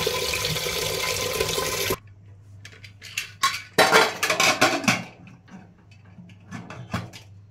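Rice being washed in a pot in a home kitchen: a steady rush of running water gives way to scattered clinks, swishes and scraping of grains and metal, with brief splashes.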